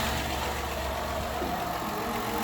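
A 2012 Ford Escape engine idling just after an oil change, a steady low rumble heard close and alone, with no talking.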